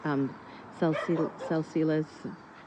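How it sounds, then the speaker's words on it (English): A dog barks and yips repeatedly in short, sharp bursts, fairly close and loud, with brief pauses between them. "I'm watching him go crazy and bark at everything."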